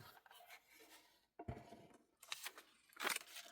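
Paper being trimmed with scissors during a papercraft project, several close, crisp snipping and rustling cuts in short bursts with brief pauses between.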